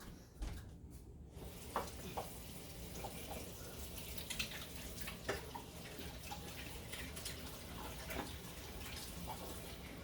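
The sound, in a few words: water running from tap while washing hands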